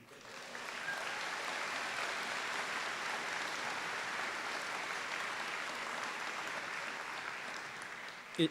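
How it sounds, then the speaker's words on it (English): An audience at a Trent University convocation ceremony in Peterborough applauds steadily for about eight seconds. The clapping fills the hall evenly, and a short louder knock comes at the very end. "It's good to hear the applause."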